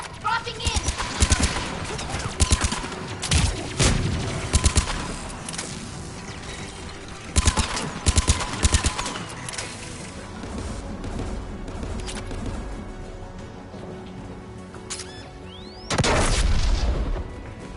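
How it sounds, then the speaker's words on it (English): Anti-aircraft guns firing in the video game Mass Effect 3, with repeated bursts of heavy booming fire and mechanical clatter, a loud blast near the end, and a voice talking over the battle. "There, the anti-aircraft guns."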